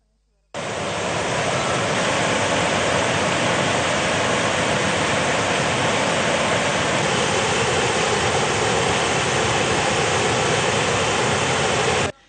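Twenty spill gates open at the Tabbova reservoir after heavy rainfall release a massive torrent, a steady, loud, broadband roar of rushing water that holds unbroken from start to finish.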